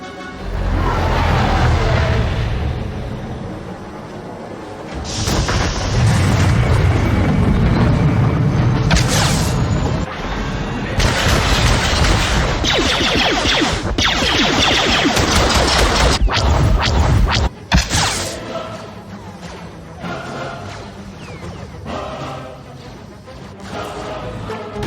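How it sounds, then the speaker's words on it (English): Enemy artillery fire in a Star Wars: The Old Republic beach battle, heavy booms and crashing impacts piling up over a dense, loud roar of combat, with brief voices mixed in. "Enemy artillery incoming!"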